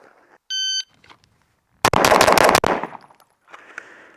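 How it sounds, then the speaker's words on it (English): An RC9 pistol fires five rapid rounds at a shooting range, a sharp close burst of shots preceded by a timer beep and followed by fading echo. "7 yards, draw and fire, 5 rounds"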